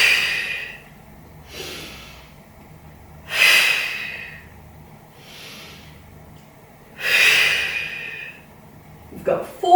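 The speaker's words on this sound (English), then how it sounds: "Breathe in, breathe out." Rhythmic breathing during a Pilates back-strengthening exercise: four slow, airy exhalations and inhalations rise and fade at steady intervals, close to the microphone, with faint movement at the end and no talking.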